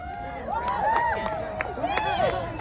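A rally crowd at a march cheers and shouts, with overlapping whoops and raised voices rising and falling over a noisy, close-up crowd background.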